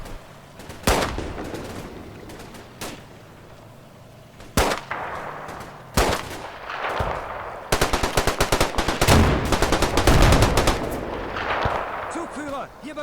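Small-arms gunfire from the Combat Mission Final Blitzkrieg video game: scattered single shots early on, then dense rapid bursts of automatic fire in the second half, loud and close, with talk underneath.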